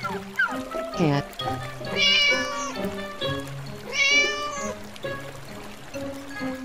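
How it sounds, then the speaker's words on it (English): A domestic cat meows several times in a row, clear and close, with a couple of longer, drawn-out cries among shorter calls. "Cat."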